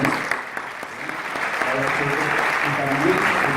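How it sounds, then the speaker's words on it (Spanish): Audience applause at a cultural event in Abanilla, steady dense clapping that swells and holds, with voices talking underneath. "esto es un aplauso después de tanto tiempo"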